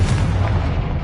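Confringo spell blast in Hogwarts Legacy: one sharp, loud boom with a deep rumbling tail, close and alone, dying away within about a second.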